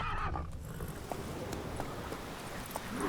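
A horse in the video game Witcher 3 whinnies and its hooves clop, steady and fairly loud in game audio, with no talk over it.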